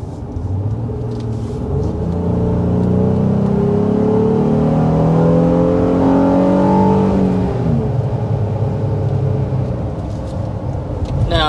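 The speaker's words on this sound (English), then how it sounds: "When you get in, you accelerate hard like that." A 2025 Honda Ridgeline's V6 engine under hard acceleration, a loud, steady rising drone that climbs in pitch for several seconds and then eases off, heard from inside the cabin with no talking.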